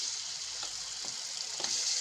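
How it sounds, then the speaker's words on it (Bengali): Steady, quiet sizzle of ginger-garlic paste frying in a pan, with a few soft scrapes from stirring. "দিয়ে ভালো করে নাড়াচাড়া করে ভেজে নেব।"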